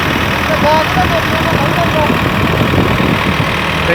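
A Standard tractor engine idles loudly and steadily nearby, a constant low rumbling chug throughout.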